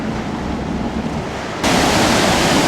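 Floodwater pours over a waterfall between old mill buildings in Newmarket, New Hampshire, a dense steady roar that jumps abruptly louder partway through and continues without a break.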